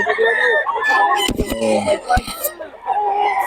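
Roosters and other fowl at a Bocaue chicken market, with clucking and crowing over steady crowd noise and nearby voices, broken by a few sharp knocks.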